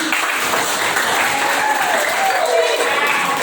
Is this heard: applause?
yes